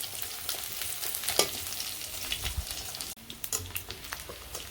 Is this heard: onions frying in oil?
yes